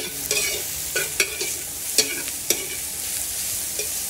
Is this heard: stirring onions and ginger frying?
yes